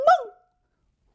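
A single short, sharp bark from a storybook dog, delivered by a human voice imitating it, close and clear, followed by silence.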